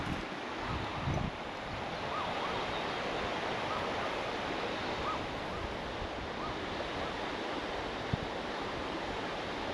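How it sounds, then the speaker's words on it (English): Steady broadband rushing of water from a river or waterfall below a drop-off, heard from above as a continuous wash blended with outdoor wind, with no talking. "you can hear the water rushing down there"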